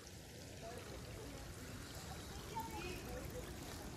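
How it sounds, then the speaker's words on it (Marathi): Rainwater runs over stones along a forest trail in the Sahyadri hills at Savlya Ghat, a faint, steady trickling stream heard from nearby. "पाऊस पडल्यामुळं पाणी वाहतंय"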